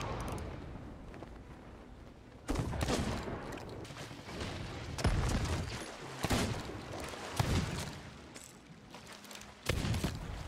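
Cannon fire from a tower in a pirate ship video game, a series of heavy booms spaced a second or two apart over rumbling background noise, with no talk over it.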